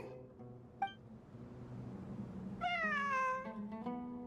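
A cat in the video game Genshin Impact meowing, one short mew early on and then a longer, louder drawn-out meow near the end, over a quiet ambient background.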